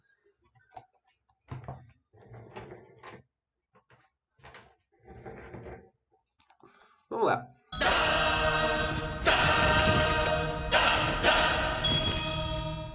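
A channel's intro vignette starts after a few seconds of scattered talk and bumps, then a loud, dense burst of music and effects fills the rest, steady and full until the end.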